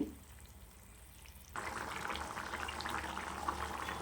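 Cowpeas and bottle gourd simmering in a pot of water, a quiet start giving way to steady bubbling and sizzling hiss.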